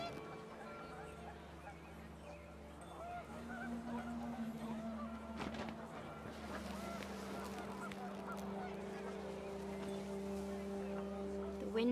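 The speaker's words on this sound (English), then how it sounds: "panicked geese appeared and quickly went" Panicked geese honk in What Remains of Edith Finch, their calls rising over a windy outdoor rumble. The honks come in overlapping bursts of moderate loudness and a voice talks over them.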